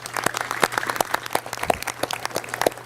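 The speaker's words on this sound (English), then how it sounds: "Can you give them a round of applause, please?" A small group claps at an outdoor groundbreaking ceremony, scattered individual hand claps forming light applause that continues steadily for a few seconds.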